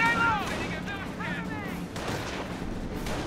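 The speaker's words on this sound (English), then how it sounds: "Alright, let's pull back, because we're getting mortared" Mortar fire in Company of Heroes thumps in bursts beneath a busy battle soundscape, with sustained rumbling and overlapping impacts while voices talk over the top.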